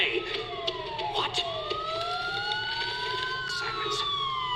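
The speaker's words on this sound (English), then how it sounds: "Sirens. The police." Police sirens wail in the video game Batman: Arkham Asylum, several overlapping tones sweeping up and down, loud and continuous over game ambience.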